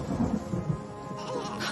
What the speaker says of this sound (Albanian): Ja të largoj nga ky shiu.